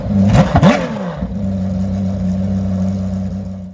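A loud Porsche race car engine with no muffler, only two side catalytic converters, revs sharply up and down, then settles into a steady, throaty idle rumble close by.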